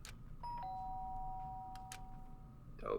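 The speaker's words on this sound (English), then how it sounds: "The sharp sound of the doorbell pierced my sleepy haze." A doorbell chimes in the Danganronpa video game, a bright electronic ding-dong tone ringing out clearly and sustaining for over a second, followed by short clicks and a louder rustle near the end.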